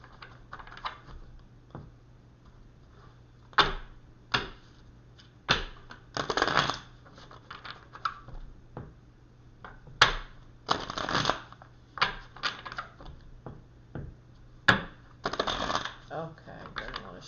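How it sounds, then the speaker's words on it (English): Tarot cards being shuffled by hand, repeated riffling bursts and crisp taps in irregular rhythm, close and clear against a quiet room hum. "Let's shuffle these cards and see which direction we're heading in here."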